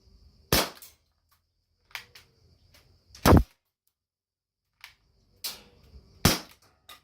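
An H8R Gen 2 CO2 airsoft revolver fires at a target: four sharp, loud cracks come a second or two apart, each with a brief metallic click or clatter around it, and quiet gaps between.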